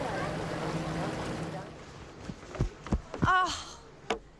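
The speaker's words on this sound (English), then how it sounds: "Oh, it's the geyser. It just erupted." Computerized geyser at Wilderness Lodge, Walt Disney World, erupting with a rushing outdoor water sound that fades, followed by a few sharp bursts and a brief tonal whistle-like sweep, with a person reacting nearby.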